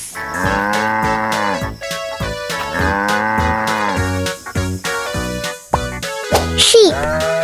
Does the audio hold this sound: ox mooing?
yes